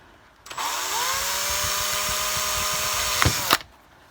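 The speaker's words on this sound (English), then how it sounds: "I'm going to use a thin bit to drill through the cardboard and through the buffer" A power drill with a thin bit whirs steadily at high speed for about three seconds, boring through cardboard, close and loud, then stops abruptly.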